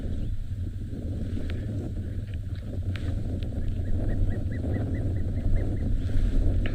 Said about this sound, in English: slightly more windier out in the open here